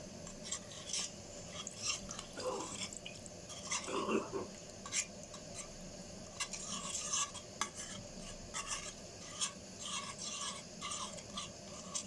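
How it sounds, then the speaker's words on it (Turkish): Homemade mint tarhana soup mix being stirred in a pot as water is slowly added, with continuous scraping and swishing of a spoon against the pan, close and moderately loud, with occasional clinks. "Yavaş yavaş karıştırıyoruz."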